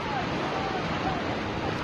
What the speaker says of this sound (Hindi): आज इतनी तेज बहाव से आ रहा है बिजोलिया तीर्थ, आज जलमग्न हो रहा है, जैसे घुटने से ऊपर पानी